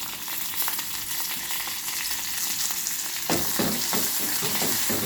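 Ginger, curry leaves and coriander leaves frying in a tempering pan for curd rice, a dense continuous sizzle that grows louder midway with rhythmic stirring scrapes, close by and with no talk.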